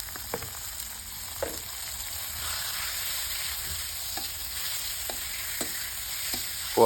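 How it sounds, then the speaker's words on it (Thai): Pork sizzles as it is stir-fried with chili and shallots in an electric pan, a steady frying hiss broken by occasional scrapes and clinks of stirring, close and moderately loud. "ตั้งแต่ขัวพริกหอมแล้วเราก็หมูลงไปเนาะพี่น้อง"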